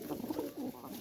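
A young blue Serbian highflyer pigeon coos softly in a loft, low rolling murmurs repeating close by over quiet background hiss.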